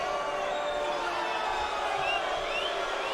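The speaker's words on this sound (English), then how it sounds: "Crowd getting a little restless here." A restless arena crowd at a Bellator mixed martial arts fight murmurs and calls out in a dense, steady wash of distant voices, with scattered whoops and faint whistles rising above the din.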